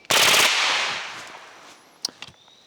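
A burst of rapid 9mm rounds from a B&T APC submachine gun cracks out loud and close, then fades in a long echoing decay, followed by a few fainter clinks and clicks.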